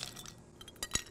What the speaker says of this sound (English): add some ice to it